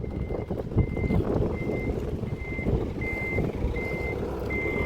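Car transporter trailer truck reversing, its backup alarm sounding a steady run of evenly spaced beeps over a rumbling diesel engine at a workshop.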